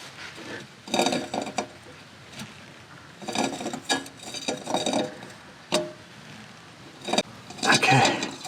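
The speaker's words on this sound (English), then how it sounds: "grab your filter wrench, get a hold of it, and tighten it down" A filter wrench tightens a car oil filter during an oil change, giving scattered close metallic clicks and scrapes in short bursts with pauses between them.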